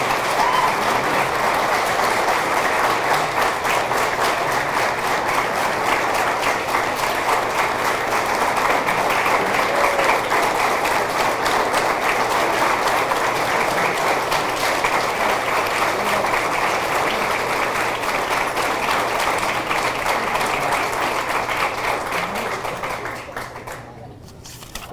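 Sustained audience applause at a high school athletic hall of fame induction ceremony for the class of 2022, a dense, steady roar of many hands clapping throughout that tapers off right at the end.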